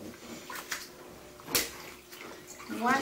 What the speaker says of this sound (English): Do you like your nice bath